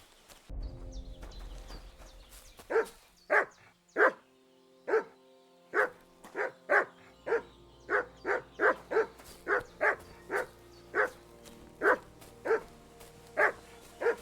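Dogs bark in Kingdom Come: Deliverance II, a steady string of sharp, loud barks at an even rhythm, one after another over a quiet low rumble.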